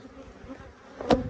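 Honey bees buzz around summer hive splits given mated queens, a low steady hum of many insects with one louder bee passing close near the end.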